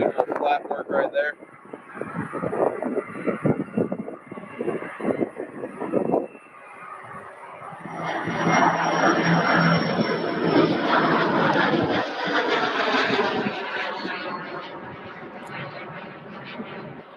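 A Korean Air airliner at Louisville airport, its engine roar swelling in a loud, steady wash midway through after quieter rumble and wind buffeting, with talk over the start.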